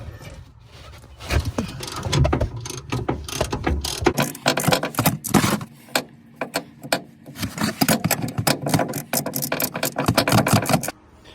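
A ratchet wrench removes coilover bolts on a 1992–2000 Honda Civic EK sedan, with rapid clicking bursts of the pawl at close range, interspersed with metallic clanks and short pauses.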